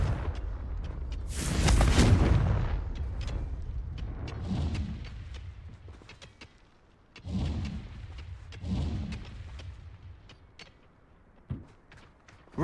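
Confringo fire spells blast in Hogwarts Legacy on PS4: a loud, broadband burst of roaring fire and booming impacts, then several more rumbling blasts and crackling hits spread through the clip, with no talk over them.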